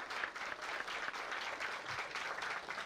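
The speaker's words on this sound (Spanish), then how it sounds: "Yo quiero darle un aplauso a Alexis" Applause from an audience for Alexis, a steady dense wash of clapping held at an even, fairly quiet level throughout with no voices over it.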